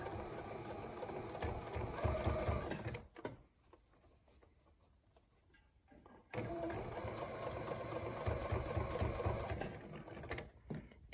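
A sewing machine runs in steady mechanical bursts as it stitches back and forth over ribbon on a fabric face mask with a filter pocket, pausing briefly midway before resuming at full, close volume.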